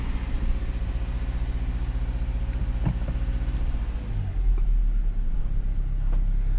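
A 2021 Subaru Forester rolls backward in neutral with the parking brake off, giving a steady low rumble and hum that shifts slightly partway through as it settles onto flat ground.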